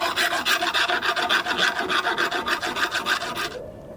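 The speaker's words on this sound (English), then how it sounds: "So we'll just file it off just so there's no sharp edges." Hand file rasping steadily across the metal surface of a Range Rover Sport L494 front lower suspension arm, with about a dozen quick rhythmic close-up strokes that stop abruptly near the end.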